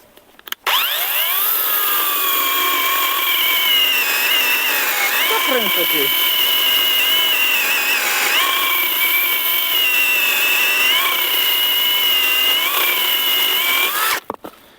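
A ProCraft PKA 33 cordless chainsaw cutting wood: a steady high electric whine runs for about fourteen seconds, loud and close, dipping slightly in pitch as the chain bites, then stops abruptly.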